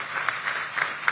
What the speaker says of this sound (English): Finance Minister Nirmala Sitharaman deserves a louder round of applause than that.